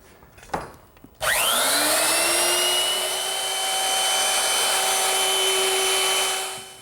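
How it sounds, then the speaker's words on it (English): A woodworking router with a quarter-inch bit eases the edges of a wooden settle piece. A couple of knocks come first, then the motor whines up sharply to a loud, steady high-pitched roar that holds and fades slightly at the end. "I'm just going to use my router"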